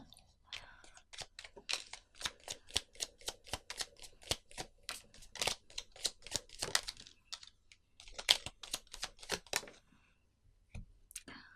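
Tarot cards are shuffled close up in a long run of quick crisp riffles and slaps, with brief pauses and a softer burst of handling near the end.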